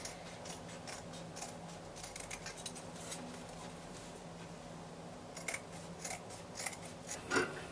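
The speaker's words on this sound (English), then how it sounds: "So I will go ahead and cut it out. I will cut out the back neckline." Scissors snip through fabric while cutting out the back neckline of a bubu dress, a quiet run of crisp cuts and clicks coming in irregular bursts.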